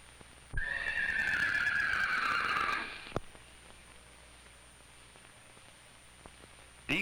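A horse on a 1950s goat dairy farm lets out one long, loud whinny lasting a couple of seconds, followed by quieter rustling and a faint thump in the background.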